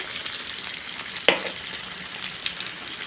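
Meat masala frying with a spoonful of ground coriander added, a gentle steady sizzle with one sharp spoon knock against the pan and a few lighter stirring scrapes, close and without talk.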